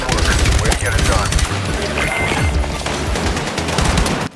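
Machine gun fire in the video game Battlefield RedSec, loud sustained bursts of rapid automatic shots layered with other gunfire and impacts, close and dense throughout, with someone speaking over the shooting.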